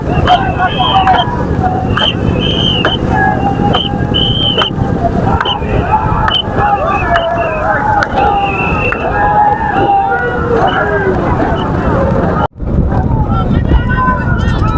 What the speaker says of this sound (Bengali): অনেক বড় একটি জায়গা জুড়ে এখানে নৌকা বাইচ হচ্ছে